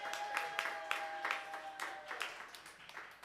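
Audience at a live music show in Detroit clapping, a quick patter of many hands that holds steady before slowly thinning out.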